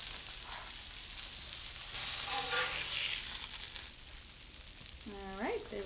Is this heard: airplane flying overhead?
no